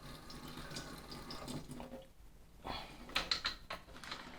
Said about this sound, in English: you can then just increase the water flow and just make sure that the inside of the pipe's nice and clean